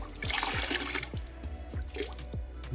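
Water drips and trickles from a wet Detail Co Nemesis wash sponge during a rinseless car wash, a series of about six soft, evenly spaced drops falling close by over a faint steady background.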